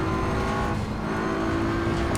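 A BMW M4 roars through gear changes in Assetto Corsa Evo on a night lap of the Nürburgring, its engine note loud and continuous with a brief dip around a shift.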